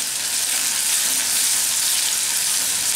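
Onion cooking in hot oil with a pinch of hing produces a continuous, even, bright sizzle that stays at a constant moderate loudness from start to finish, with no speech over it.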